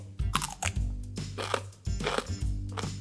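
Crisp crunching bites and chewing of a fermented Korean pickled chili pepper, a series of close, moderately quiet bursts over a low steady hum.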